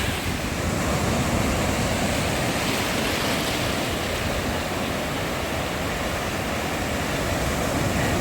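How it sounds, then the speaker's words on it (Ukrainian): Sea waves break steadily on a beach at Side, Turkey, a continuous loud wash of surf with no voices over it. "ця маленька хвиля, яка виходить на берег, дуже тягне за собою в море"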